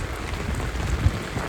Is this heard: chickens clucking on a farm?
no